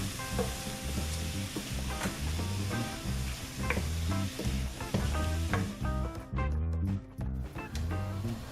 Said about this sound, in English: we'll add the zucchini, mushrooms, oregano, and salt, 1/2 teaspoon each of the spices, and saute for another 2 minutes